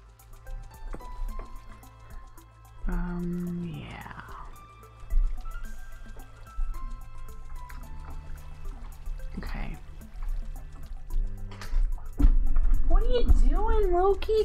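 Water flowing and trickling in modded Minecraft 1.12.2, a soft liquid dribble running steadily beneath someone talking throughout.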